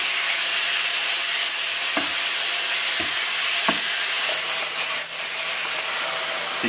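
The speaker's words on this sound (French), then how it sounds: "On va mettre tous les morceaux. Voilà, et on fait revenir." Lamb pieces sear in an extremely hot pan with no fat, a loud steady sizzle broken by a few sharp clacks of stirring, with no talking.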